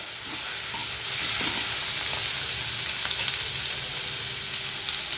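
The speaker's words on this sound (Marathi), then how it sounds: "आता हे मी आलं लसूण क्रश ॲड करते थोडं तेलावर आपण परतून घ्यायचं आहे" Crushed ginger and garlic sauté in hot oil already tempered with mustard seeds, cumin and curry leaves for dal palak, giving a continuous close, bright sizzling hiss that stays steady throughout with no talking.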